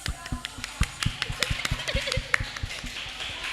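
Children at a sixth-grade school assembly give a round of sparse, uneven claps, individual hand slaps standing out as separate taps against a quiet room, with a few faint voices underneath.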